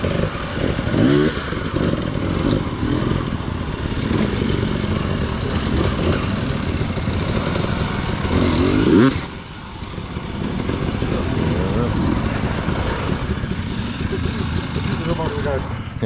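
A hard enduro motorcycle engine revving for a front-wheel lift, a loud rasping drone with rising throttle bursts that briefly drops near the middle, while voices talk over it.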